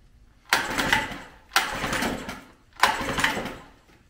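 A 1994 Mercury Longshaft 5hp outboard motor with full choke, cranked three times in quick succession, each a loud close burst of engine turning over that dies away without catching.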